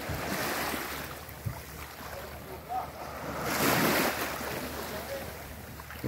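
Little racing boats out on the water off a beach in Cebulan, heard as a continuous wash of surf and wind rumble that swells in the middle, with a brief faint sound poking through.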